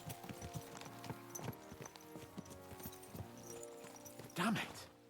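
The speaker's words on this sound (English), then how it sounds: "Let's really spur these horses on, eh?" Horses' hooves clip-clopping at a steady walking rhythm in the video game Kingdom Come Deliverance 2, close and clear over a faint musical background, with a brief louder burst near the end; speech is heard in the clip.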